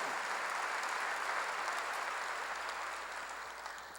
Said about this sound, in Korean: 박수를 하세요